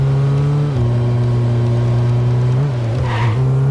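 Steady engine drone of a car driving in the VR racing game EXOcars, a constant hum with brief pitch dips as the driver shifts or eases off, close and loud, without talk.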